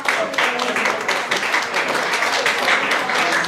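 Steady, dense applause from an audience at a dance awards presentation, many hands clapping together without a break for several seconds, fairly loud and close.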